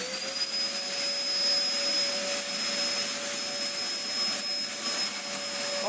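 A mouldy old Dyson DC04 Zorbster vacuum cleaner running, with a loud, steady whine and strong high tonal motor pitches over an airy rush, held continuously and close with no talking.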